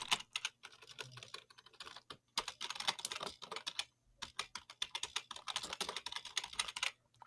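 Rapid clicking keystrokes on a computer keyboard come in quick bursts with short pauses between them, close and fairly quiet, with no talking over them.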